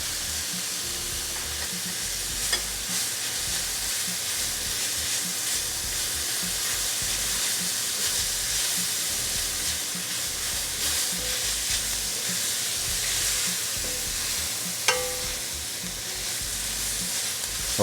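Minced garlic sizzles in a pan of wilting greens while cioppino is being made, a dense, even hiss running without a break at close range, with a couple of faint clicks and no voices.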